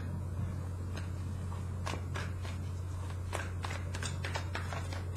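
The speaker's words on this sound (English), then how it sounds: "One last shuffle." Soft, scattered tarot card-shuffling clicks and riffles over a steady low hum, fairly faint and close, with no talking.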